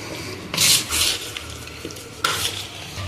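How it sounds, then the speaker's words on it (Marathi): Dal vada batter of soaked mixed lentils with lemon juice being stirred by hand in a bowl, giving a few close, wet scraping and swishing strokes in short bursts, with no talking. "छानपैकी मिक्स करून घ्यायचं."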